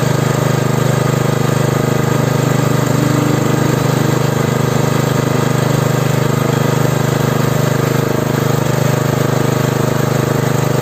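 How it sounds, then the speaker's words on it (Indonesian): A Redbo RFW 160A engine-driven welding machine runs with a loud, steady mechanical drone and hum, unchanging throughout, with no voices over it. "Selanjutnya kita akan tes mesin las, dan teman-teman bisa menyaksikan bagaimana mesin ini bekerja"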